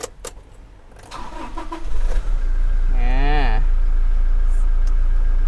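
A 2015 Toyota Revo 2.4 pickup diesel engine cranks briefly, catches and settles into a steady low rumbling idle, with a few quiet voices before the start.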